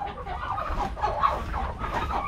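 Clucking from a small Darag native chicken, a Philippine breed, comes through in a steady run of soft, close calls amid busy farmyard background noise, with no talk over it.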